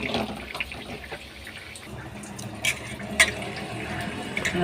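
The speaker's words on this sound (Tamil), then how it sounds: "மிளகாத்தூள்லாம் கொஞ்சம் தண்ணி ஊற்றி" Water is poured into a pan of chili powder, a light splashing trickle followed by sizzling and a few clinks, fairly close.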